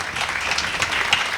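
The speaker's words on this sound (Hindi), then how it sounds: "हाँ ताली आप लोग बहुत अच्छी बजा रहे हैं, दिल ईडन गार्डन हो रहा है आपकी तालियों की गड़गड़ाहट सुनकर।" An audience at a Jain monk's welcome sermon in Kharadi, Pune, claps in a steady, dense wash of applause from a crowd close by.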